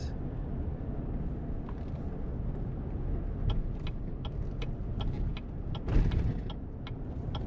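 A car driven through town streets, a steady low road and engine rumble from inside the cabin with faint rattles and clicks, fairly quiet and without talk.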